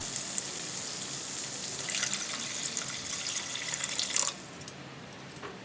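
Water poured into a hot pan of gingery paneer gravy, a steady hissing pour with a brief louder splash near the end, close and alone.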